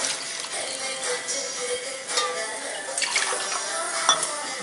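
Water poured from a tumbler into rice in a cooking pot for Tamil sambar rice, with a splashing, sloshing pour and light clinks of metal vessels, close up and without speech.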